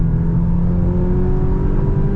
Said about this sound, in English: That engine's just screaming along.